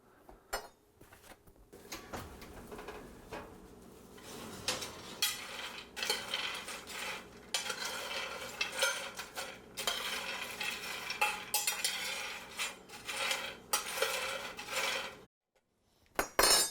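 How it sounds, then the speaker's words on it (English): Food roasting in a pan is stirred, producing a busy scraping and clattering of a utensil against metal, fairly quiet and continuous, stopping briefly before resuming. "We're going to give this another stir"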